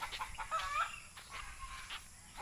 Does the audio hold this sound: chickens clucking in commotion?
yes